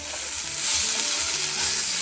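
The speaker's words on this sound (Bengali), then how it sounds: "পেঁয়াজটাকে হালকা করে ভেজে নিয়েছি আর এবার আমি এর মধ্যে পনিরটা দিয়ে দিচ্ছি" Paneer and onion frying in a pan, a loud continuous sizzle with faint stirring sounds underneath, close and steady.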